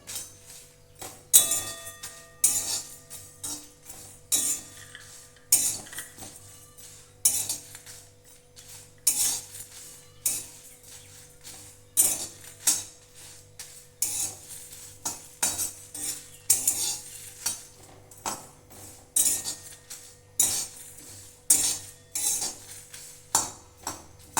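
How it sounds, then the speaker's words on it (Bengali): Cumin seeds and five dried red chillies are stirred in a wok, a close, steady run of rhythmic metallic scrapes and clinks from the spatula that repeats every second or so against a quiet background. "এটা আমি কড়াইয়ে দিয়ে দিচ্ছি আর দিয়ে দিচ্ছি পাঁচটা শুকনো লঙ্কা এটা ভেজে নেবো"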